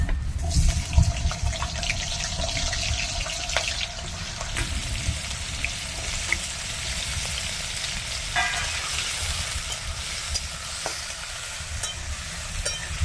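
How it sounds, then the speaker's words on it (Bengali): Cut potatoes fry in mustard oil with dried red chillies and whole cumin in a kadai, a steady close sizzle with occasional scraping stirs and clinks throughout, no voices. "আলুটা একটু লাল লাল করে ভাজবো"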